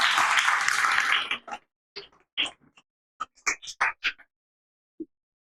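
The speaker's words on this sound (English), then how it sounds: "Let's give her a big round of applause" An audience at a Toastmasters club meeting applauds loudly for just over a second. The clapping cuts off, and scattered short sounds and brief voices follow.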